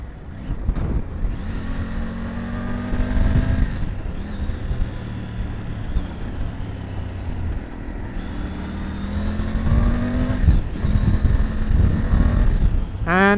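A Triumph Tiger 900 Rally Pro motorcycle is ridden hard, its engine climbing through several gears with rising pitch, brief dips at each shift, then rising again, loud and close over wind noise.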